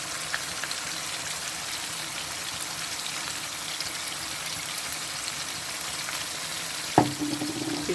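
Teriyaki-seasoned food frying in a pan gives a steady, dense sizzle throughout, with a sharper clatter of stirring near the end.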